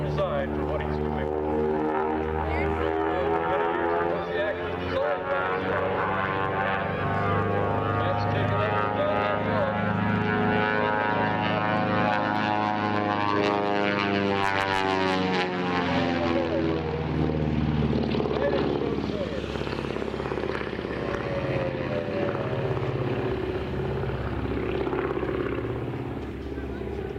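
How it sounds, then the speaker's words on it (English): A big, heavy twin-engine Beech 18 flies aerobatics at the Oshkosh 2011 air show, its loud, droning radial engines rising and falling in pitch as it passes, with a commentator talking over the noise. "makes it look real easy in a big, heavy, twin-engine airplane that was never designed for what he's doing."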